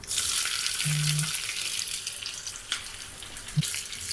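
Small shallots sizzle in hot coconut oil with mustard seeds, a continuous bright frying hiss broken by a couple of faint pops.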